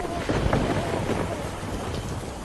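A brief, steady downpour of heavy rain hisses densely and evenly, close and unbroken, with a faint low rumble underneath.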